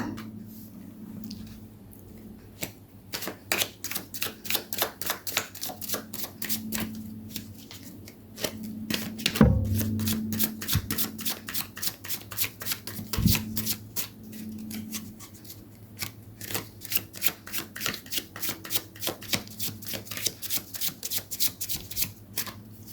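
Tarot cards shuffled by hand at close range, with repeated quick riffling bursts and soft papery flicks over a faint background hum, and two sharp taps near the middle.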